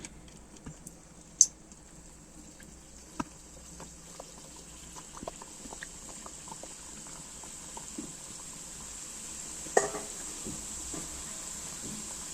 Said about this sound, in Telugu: తిరగేసుకుని ఎర్రగా వేగనవ్వాలి